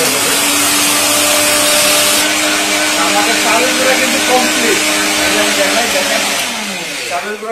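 An Orpat 1200 watt mixer grinder whirs loudly and continuously as it grinds rice into powder, a dense high-pitched motor whine that holds steady, then winds down near the end.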